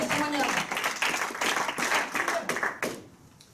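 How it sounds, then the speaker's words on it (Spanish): A church congregation claps during a Sunday service, the rapid, dense claps continuing for about three seconds and then tapering off at the end. "Dele palmas aquí"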